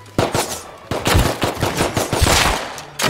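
Rapid gunfire in the survival game Rust, several sharp bursts of shots in quick succession, loud and close, with brief gaps between volleys.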